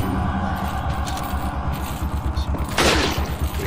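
Resident Evil 4 gunfire booms over a steady, rumbling game backdrop, with one sharp, loud shot near the end standing out.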